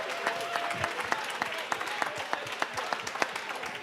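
Scattered clapping from a modest crowd at a school fundraiser gala, individual claps standing out sharply against a low room murmur; fairly quiet and distant.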